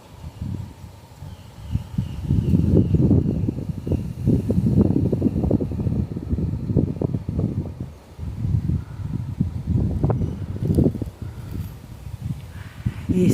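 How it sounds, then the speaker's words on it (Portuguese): Wind blowing among tall pine trees, a steady low rushing roar that swells and eases in gusts, close and continuous with no voices. "Esse é o som do vento."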